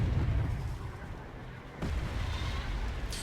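Artillery fire in the Wargame Red Dragon strategy game: heavy low booms and rumbling blasts, with a sharp new impact midway and a rolling barrage continuing after it, no talk over it.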